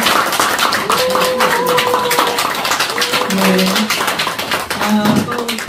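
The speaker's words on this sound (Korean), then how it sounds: "다시 뜨거운 박수 부탁드리겠습니다" An audience at a Korean literary talk concert applauds, a continuous dense patter of clapping hands that runs underneath a host speaking over it.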